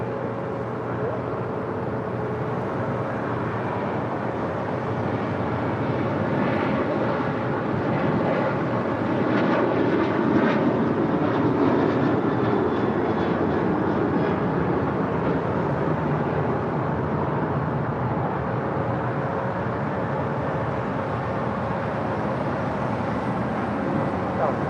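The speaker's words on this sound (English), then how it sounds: "That flight heading to Orlando, Florida for United Airlines flight 1621 out of 737-900ER" United Airlines Boeing 737-900ER departing for Orlando, its jet engines a steady broad rumbling roar that builds slightly mid-way, under faint background noise and distant talk.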